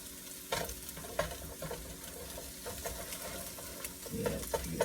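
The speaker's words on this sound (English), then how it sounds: "your onions are sauteed perfectly, your eggs are cooked perfectly" Onions and eggs sautéing together in a pan for fried rice, a soft continuous sizzle with repeated stirring scrapes and clicks of the spatula, fairly quiet and close.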